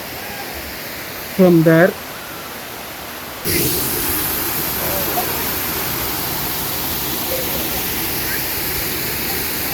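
A waterfall in the Baba Budangiri hills of Chikmagalur, Karnataka, gives a continuous broadband roar that grows louder partway through. Someone speaks briefly over it.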